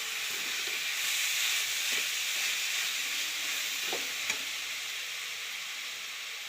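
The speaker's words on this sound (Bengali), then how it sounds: "নারকেলটা জাল দিয়ে নিই পাটিসাপটা পিঠে করার জন্য" Grated coconut cooking down in a pan for a patisapta filling, a steady close hiss of sizzling with a few soft stirring knocks, even and continuous with no talking.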